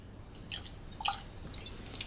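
Whisky trickles and drips into a professional tasting glass marked with fill lines, a few soft liquid splashes close up and quiet, with no talking.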